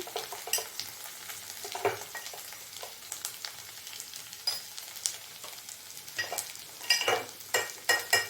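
Ginger garlic paste with chili powder and turmeric frying in a pan, a soft continuous sizzle broken by scattered scraping stirs that grow busier and louder toward the end, close up with no voices.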